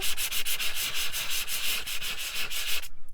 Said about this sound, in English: sandpaper will do. Probably more of a softer grit.